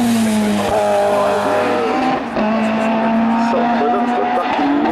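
Rally car launching hard up a national hill climb course at Hébecrevon, engine wailing loud and close through rising gear changes, with tire noise and a commentator's voice running throughout.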